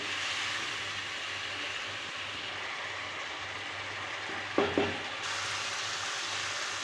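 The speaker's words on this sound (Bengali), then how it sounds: "একটু জল দেব অল্প পরিমাণে জলটা দিয়ে মশলাটা ভালো করে কষিয়ে নেব" Spice paste with a little water frying in a pan, a quiet continuous sizzle with two brief knocks of a utensil midway through.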